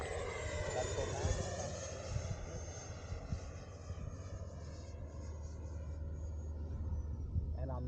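A small airplane's engine runs at full power in the traffic pattern, a steady loud drone with harmonic hum throughout, while an instructor talks over it.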